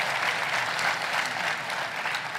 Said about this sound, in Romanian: Haideți să vă aplaudăm.